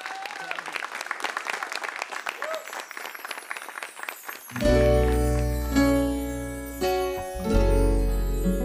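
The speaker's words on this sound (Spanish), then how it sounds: "¡Palmas fuertes!" A live concert audience claps loudly for about four and a half seconds as the show opens, then the applause gives way to a band beginning to play.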